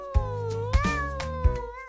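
Cartoon kittens meowing in a doll-craft animation, a clear drawn-out meow with rising and falling pitch over soft background music beats.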